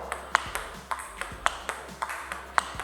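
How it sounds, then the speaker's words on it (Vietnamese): Table tennis ball ticking on the table during a backhand topspin rally, sharp light clicks in a steady quick rhythm, fairly faint and close, with a few brief thumps between them. "hãy nghe cái tiếng bóng mà bên kia đánh vào bàn và căn theo nhịp"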